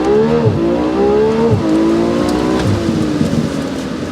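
A 2023 BMW M440i convertible accelerates hard from 0 to 60, its engine revving up in rising sweeps with quick dips at each gear change, loud and close throughout.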